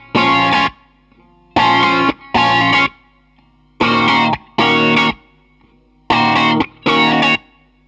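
Distorted electric guitar with chorus effect strums the chorus of a song in seven loud, choppy chord stabs, grouped in short bursts with brief silences between, no voices.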